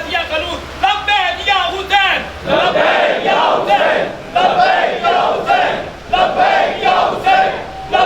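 At a Muharram majlis, a large crowd loudly chants a religious slogan in rhythmic, repeated bursts of massed voices, close and energetic throughout.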